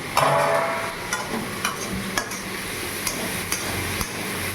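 Bitter gourd frying in a pan, a steady bright sizzle with a series of regular spatula taps against the pan.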